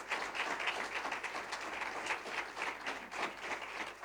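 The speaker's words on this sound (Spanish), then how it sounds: "¿Cuánto le dan un aplauso al Señor en esta noche?" A church congregation applauds during an evening service, a steady wash of clapping with no speech over it.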